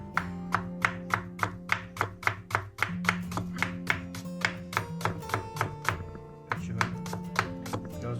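Rapid, even knife taps on a cutting board chopping an onion, steady, with a brief pause midway, over soft background music.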